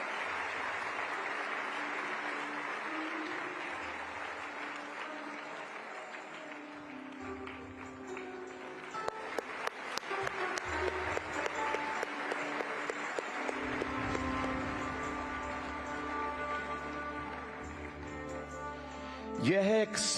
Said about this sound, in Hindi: जोरदार तालियों से हम स्वागत करें